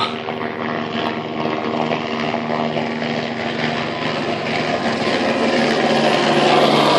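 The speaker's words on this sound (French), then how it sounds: "Toujours le balai des hélicos." Helicopters ferrying resupply material over the Mafate cirque on Réunion, a steady rotor and engine drone that stays loud and continuous throughout, swelling slightly toward the end as an aircraft nears.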